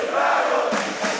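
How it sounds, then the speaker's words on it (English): A student crowd at a high school senior boys basketball game between Vancouver College and St. George's roars with cheering and chanting, a loud, continuous wall of voices. "the kids cheering, chanting, and Vancouver College on the other side"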